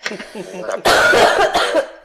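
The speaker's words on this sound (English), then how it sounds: "it's this cough, man. This cough is the worst" A harsh, violent coughing fit bursts out loudly after some quiet murmuring, with several rough hacking coughs in quick succession.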